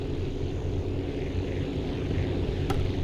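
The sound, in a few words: plane engine at full throttle in Aviassembly video game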